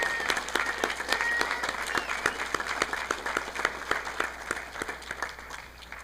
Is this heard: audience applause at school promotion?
yes